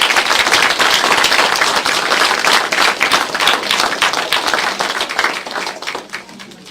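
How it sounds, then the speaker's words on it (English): A room full of people at a board meeting gives a sustained round of applause, dense steady clapping that holds strong for several seconds before gradually thinning out at the end. "If we give those folks a nice round of applause."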